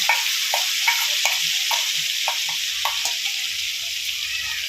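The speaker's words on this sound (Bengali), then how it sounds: "এবার এটাকে একদম যতক্ষণ না লাল হচ্ছে ততক্ষণ আমি এটা ভাজতে থাকবো" Onion paste sizzles and crackles steadily in hot oil, with a dense, continuous frying hiss broken by repeated stirring scrapes of a spoon in the pan.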